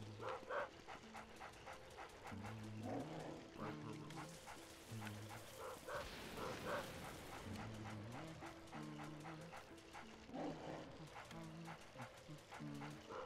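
A dog in the Luigi's Mansion video game barks and yips in short bursts over a looping game soundtrack, with a person talking over the top throughout.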